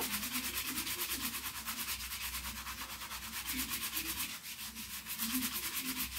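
Vaseline is rubbed by hand onto a brown leather shoe to polish it, giving quiet, rhythmic back-and-forth rubbing strokes, close and soft, repeating steadily.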